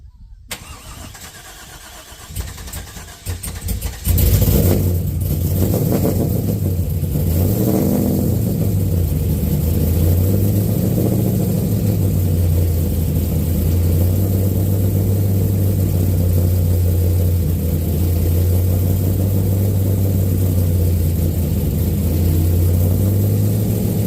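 An LS6 V8 cranks and catches, then runs loud and close with a few revs before settling into an uneven, hunting idle that struggles to stay steady.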